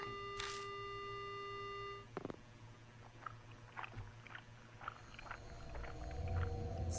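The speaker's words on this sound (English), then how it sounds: "The only sound I hear is the dial tone." Telephone dial tone from the horror game Spirit Hunter: Death Mark, a steady stacked electronic tone held for about two seconds, then cut off by a thud and followed by faint scattered clicks and low rumbling.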